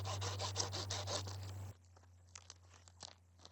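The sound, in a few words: stripping wood for campfire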